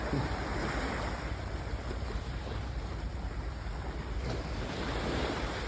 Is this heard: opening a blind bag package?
no